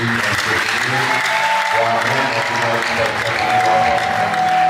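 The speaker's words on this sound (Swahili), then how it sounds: "Napendelea mtu mmoja apigie Mungu makofi." Wedding guests clap continuously at a lively celebration, a dense steady patter of many hands filling the space while voices and an amplified speaker carry on over it.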